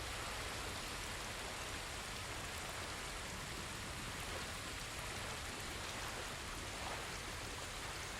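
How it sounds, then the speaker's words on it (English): Steady broadband rush of a waterfall in the video game Ghost of Tsushima, a continuous loud hiss of falling water with no talk over it. "The waterfall."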